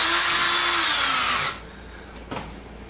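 Power drill driving long screws into a TV antenna add-on, a loud sustained high-pitched whir for about a second and a half that cuts off, followed by a brief faint clatter.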